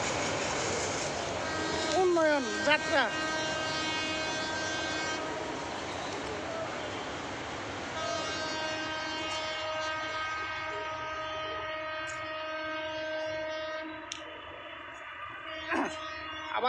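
An old, rattling passenger train in Bangladesh rumbles past steadily, sounding a long, loud horn early on and again briefly near the end, while someone talks over the noise.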